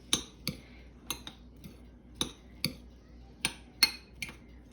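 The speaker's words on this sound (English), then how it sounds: "I'm just gonna give this a nice quick stir" A spoon stirs tomatoes in a cooking pot, producing about ten sharp metallic clinks and taps against the pot in an uneven rhythm, close and fairly quiet, with no voices.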